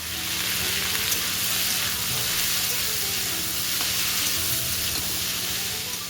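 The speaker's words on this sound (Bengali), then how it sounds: "এবার পেঁয়াজগুলোকে দিলাম ভাজতে।" Onions sizzle in hot oil in a pan with cumin, dried chilli and cinnamon, a continuous even crackle close up with faint stirring, no voices.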